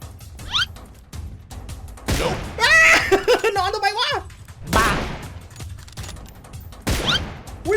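Sniper rifle shots in a first-person shooter video game ring out three times, each a sharp loud crack spaced a couple of seconds apart, with someone talking excitedly between them.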